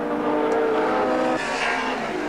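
BMW touring cars racing in a 1987 Australian Touring Car Championship round at Wanneroo, engines droning steadily at a distance and shifting pitch as they pass, with no talk.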